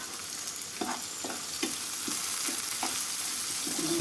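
Onion and garlic fry in oil as a crackling sizzle up close, broken by regular stirring clacks from a utensil, with no talk.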